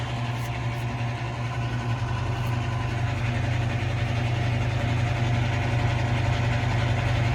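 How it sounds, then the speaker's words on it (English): Faulty direct-drive blower motor of the X-vane style in a heating unit runs with a constant loud hum and whooshing drone, steady and close throughout with no speech. "Scared you got a bad blower motor."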